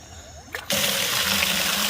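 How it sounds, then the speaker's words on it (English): Water bursts from a farm hydrant after a brief clunk and then runs steadily, a loud, even gushing that fills the space. "Alright, fill up the fucking water here."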